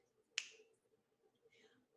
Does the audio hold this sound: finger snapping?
yes